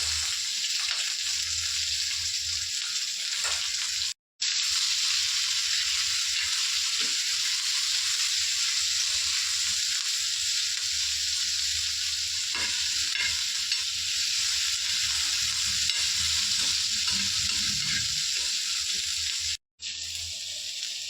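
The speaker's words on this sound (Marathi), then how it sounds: "तेल गरम झालं टमाटर कांदा चांगला भाजून घेऊ" Onion and tomato fry in hot oil for a homemade paneer and pea curry, making a loud, continuous hiss with occasional stirring scrapes that runs unbroken through two very brief cuts, with no voices.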